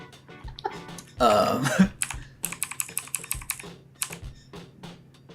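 Fingers type on a computer keyboard in quick clusters of close, crisp key clicks, broken by a brief burst of loud vocal noise.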